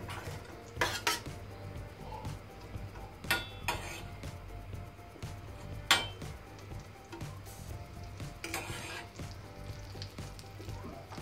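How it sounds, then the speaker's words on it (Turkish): Butter melting in a pan while preparing yogurt mantı with chili butter: a soft, low sizzle runs throughout beneath frequent clinks of utensils and pans, with a few sharper metallic knocks standing out. "tereyağımı eritiyorum gördüğünüz gibi"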